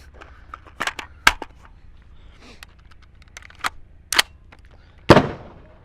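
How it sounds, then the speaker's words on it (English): Suppressed rifle shots from an OSS HX-QD 556 suppressor, several sharp reports spaced irregularly over a few seconds, with the last shot loudest and trailing off, alone without talk. "I'm going to shoot these two."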